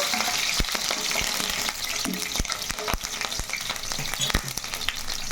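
Green chilies, cinnamon, cloves and biryani spices fry in hot oil in a kadai, a loud close sizzle broken by sharp clicks of stirring.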